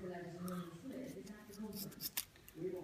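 Dyneema rope strands being snipped off with scissors during a loop splice, a few short crisp cuts at close range mixed with handling noise, with a voice speaking alongside.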